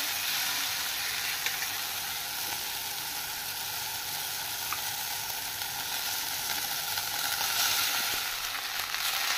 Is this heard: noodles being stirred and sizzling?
yes